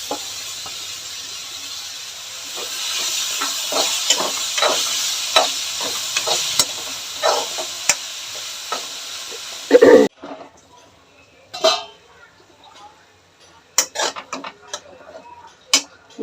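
Tomato frying in a pan for a curry, with a soft sizzle and stirring clicks early on, then sparse scraping and utensil taps after the hiss fades.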